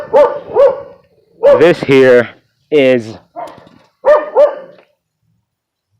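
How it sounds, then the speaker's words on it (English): Several dogs bark back and forth with a neighbor's dog near a garden, loud sharp barks in short bursts separated by pauses, with someone speaking briefly. "the dogs are at it again, going at it with the neighbor's dog"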